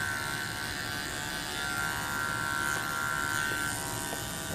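Hair clippers fitted with a 1.5 guard cut against the grain during a bald fade. They give off a steady, faint electric buzz that runs without a break and has no talking over it.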